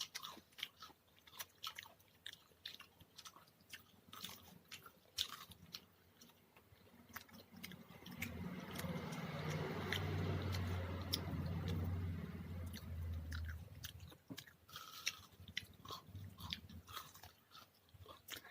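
Close crunching and chewing of a crisp fried snack, with rhythmic bites and a louder stretch of munching in the middle, no talking.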